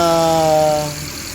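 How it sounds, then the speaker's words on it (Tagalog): A car with a hard-starting fault and ignition switch problem catches and runs as the key is released, a loud buzzing cranking drone that drops into a lower, quieter engine hum within a second. "Pero pag binitawan mo yung susi, diyan siya mag start"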